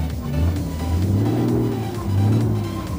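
A modded 2009 Volvo truck engine in Euro Truck Simulator 2 revs up and down in deep, swelling surges, close and prominent with no talking.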